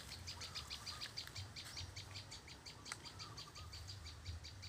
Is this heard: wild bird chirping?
yes